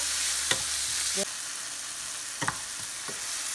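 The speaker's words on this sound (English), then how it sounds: "Let's saute until the tomatoes turn little mushy." Tomatoes sauteing in a pan for mutton curry, with a soft background sizzle broken by a few sharp utensil clinks and stirring taps. The sizzle drops quieter partway through.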